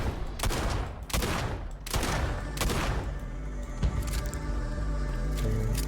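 Gunfire in the space game Starfield crackles in loud, rapid bursts, several shots clustered in the first few seconds and then continuing more thinly amid game noise.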